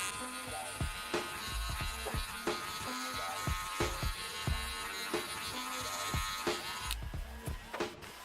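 Electric hair clippers fitted with a number 1 guard buff out a bald fade, giving a steady, close motor buzz broken by repeated short strokes and clicks as the lever opens and closes.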